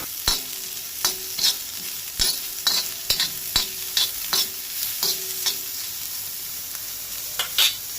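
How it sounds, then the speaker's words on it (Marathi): Onion, garlic and ginger fry toward light brown in a pan for a Goan veg thali, a constant soft sizzle punctuated by repeated sharp stirring taps and scrapes of a spoon, no voices. "आता कांदो लसूण आलें लायट ब्रावन जायसर तळशीत रावपाक जाय।"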